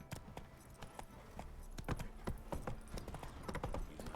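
Roach, a horse in The Witcher 3 video game, gallops with rapid, rhythmic hoofbeats clopping over ground, continuous and fairly close, with faint ambient game sound beneath.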